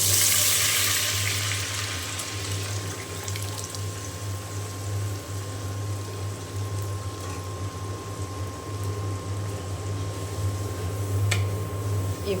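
Moong dal tipped into a pan of hot oil with fried dried chillies, giving a steady close sizzle and watery frying hiss that runs continuously without pause and swells slightly toward the end.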